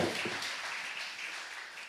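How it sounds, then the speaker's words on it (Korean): Applause from a church congregation at a Sunday worship service, a dense steady patter of many hands clapping together for about two seconds, fairly faint and even, with no talk over it. "하나님께 영광의 박수 드립시다."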